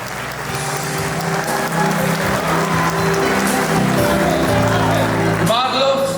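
Guests at Zura and Mari's wedding in the Grand Palace restaurant break into sustained, loud applause close by, a dense wash of clapping running throughout over background music and a voice.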